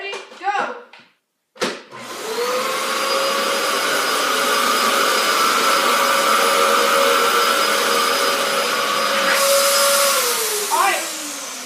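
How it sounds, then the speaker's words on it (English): A Dyson vacuum cleaner, run in a Christmas Eve vacuum test, starts after a quick voice and a sharp click, then holds a loud, steady motor whine for about eight seconds before winding down in pitch near the end. "So we're going to start with the Dyson"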